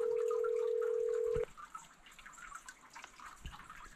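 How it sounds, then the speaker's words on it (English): A telephone call tone sounds as one steady electronic note for about a second and a half, then cuts off abruptly, leaving a quiet outdoor background by a beaver pond. "So I decided to call up my cousin Stu"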